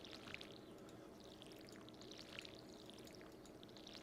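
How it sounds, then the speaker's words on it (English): A watering can pours over crops on a Stardew Valley farm, a steady soft trickling pour with faint sparkly chimes above it, continuing quietly for the whole stretch. "So let's go ahead and water these guys."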